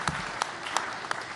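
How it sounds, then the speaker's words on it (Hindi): A live audience at a televised summit in India claps, a faint steady patter of applause with a few sharper clap bursts standing out, no voices over it. "जोरदार तालियां"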